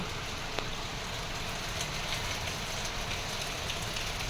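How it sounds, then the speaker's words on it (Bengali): Sudden heavy rain pours down in a dense, steady hiss that holds without pause, close and loud, with no voices over it. "হঠাৎ করে না ঝমঝমিয়ে বৃষ্টি নেবে গেল"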